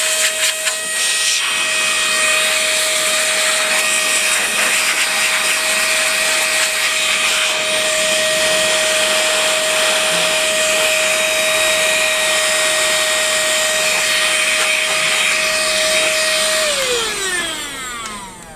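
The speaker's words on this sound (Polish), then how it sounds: "to jest dmuchawa" A steady high-pitched whine of an electric air blower cleaning a laptop keyboard runs continuously, loud and close, then winds down at the end.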